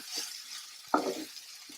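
Lentil paste stirred in a wok: a few brief, soft scraping strokes with one sharper clink in the middle, close and fairly quiet, with no talking.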